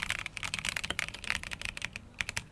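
Rapid, uneven keystrokes on a KBDFans D45 mechanical keyboard fitted with Everglide switches and tall MT3 keycaps, a close, steady clatter of bright clicks with no talking.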